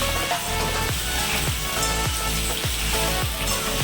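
An evening snack frying in a pan, a dense close sizzle with a regular low thumping rhythm from steady stirring, about two strokes per second throughout.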